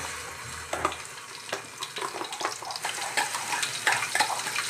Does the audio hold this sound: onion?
yes